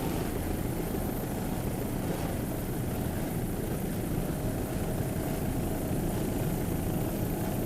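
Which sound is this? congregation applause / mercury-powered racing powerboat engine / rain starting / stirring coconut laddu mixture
mercury-powered racing powerboat engine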